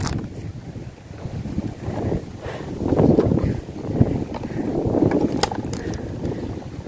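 Steady wind rushing and buffeting across the microphone, swelling in gusts, with faint water and boat noise underneath.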